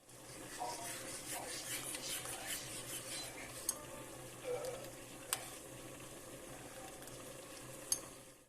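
Pear jam is being stirred quietly in a pot as gelatin is added, with soft bubbling and a few sharp spoon clinks against the metal.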